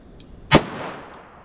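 One sharp, loud shot from a 4-inch-barrel .38 Special revolver firing a 120-grain bullet, a sudden crack followed by a short decaying echo.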